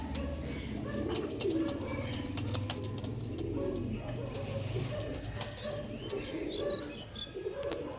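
Domestic pigeons coo softly and repeatedly nearby, mixed with scattered chirps and a busy low background murmur throughout.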